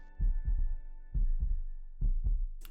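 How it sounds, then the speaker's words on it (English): A steady heartbeat thumps close and loud in paired lub-dub beats, three beats in a little under three seconds, with a faint hum beneath and no speech. "You hear your heartbeat?"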